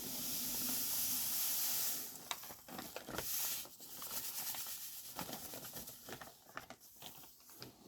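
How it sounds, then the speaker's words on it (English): Sand is poured for the drainage layer of a mossy vivarium built for mealworm beetles, starting as a steady, close hissing stream and breaking into scattered patters and small trickles. "First up, we'll be doing our drainage layer of sand."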